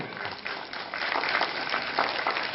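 Applause from a theatre audience during credits at a drama show in Jammu, a steady dense wash of many hands clapping that swells slightly partway through and carries on without any talk.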